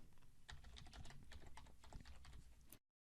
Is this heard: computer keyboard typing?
yes